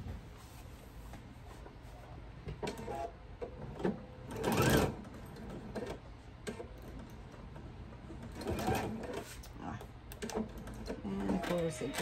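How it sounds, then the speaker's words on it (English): A sewing machine stitches a fabric thread catcher, its rapid mechanical whirring running in several bursts close up over about twelve seconds, with a person speaking in between and over the stitching. "I'm going to sew up this side and finish where I started."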